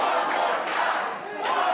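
At a wrestling event, a crowd roars and shouts right after a knife edge chop, giving a dense, loud, sustained cheer with a few sharper surges.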